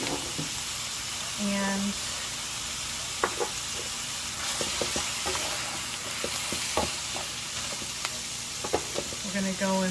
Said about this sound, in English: These are pre-cleaned baby bella mushrooms, so I'm just going to throw these in.